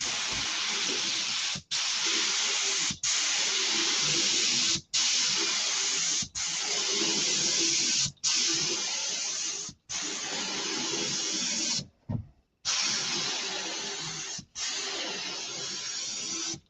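Water sprays hard from a garden hose in long, loud hissing bursts, stopping briefly about every one to two seconds before starting again.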